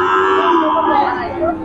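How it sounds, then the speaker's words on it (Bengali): A Sahiwal heifer calf at a rural cattle market in Boalmari, Faridpur, lets out one long, loud, close-up moo that wavers in pitch over faint background crowd murmur. "এটা শাহিওয়াল বকনা বাছুর"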